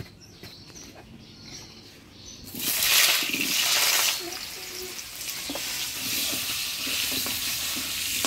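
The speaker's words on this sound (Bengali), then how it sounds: "মাংসের আলুটাও হলুদ লবণ দিয়ে একবারে ভেজে নিব।" Potatoes dropped into hot oil with turmeric and salt, a loud hissing sizzle that surges up after a quieter stretch, then settles into a steady close frying crackle.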